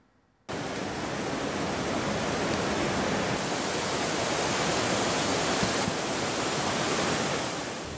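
A river swollen by heavy rain on the slopes of Mount Semeru in Indonesia rushes past in a dense, steady roar that starts abruptly and holds loud and unbroken with no voices.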